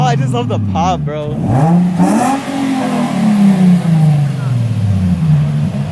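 A Nissan 350Z with a custom single-exit exhaust revs hard, the pitch swooping up and then sliding down, with voices talking briefly at the start.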